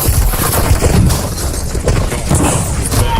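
Dense, loud gunfire and booming explosions from the shooter game Warzone, a continuous barrage of rapid shots with rumbling low impacts throughout.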